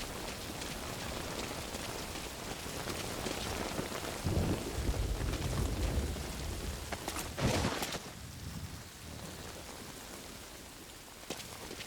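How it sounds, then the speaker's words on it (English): Heavy rain pours steadily in the video game Metal Gear Solid Ground Zeroes, a dense wash of hiss that swells louder midway, with a deep thunder-like rumble rolling under it and no voices. "That rain just won't let up."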